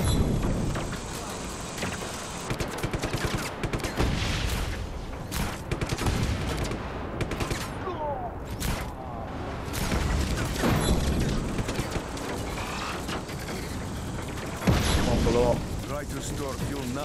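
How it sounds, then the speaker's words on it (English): Explosions and gunfire destroying tanks in the open-world action game Just Cause 3, with dense rumbling blasts and crackling fire continuing throughout, a heavier boom near the end, and a voice talking over the chaos. "boom, all the tanks gone"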